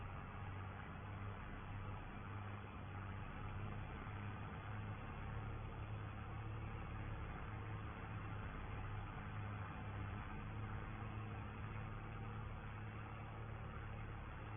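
A tractor engine drones steadily while drilling rapeseed on a farm field, a constant low hum under a dense, even wash of mechanical noise that never changes in level.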